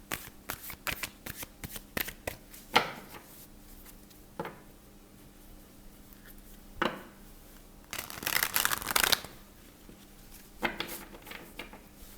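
Tarot cards shuffled by hand in several separate bursts, a few brief riffles and a longer flurry near the end, close and moderately loud over a quiet room with a faint steady hum.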